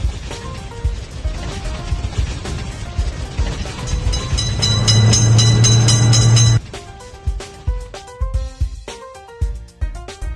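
A cartoon train in a kids' railway-crossing game passes with a loud sustained rumble lasting roughly two seconds, layered over cheerful looping music that carries on after the train sound stops sharply.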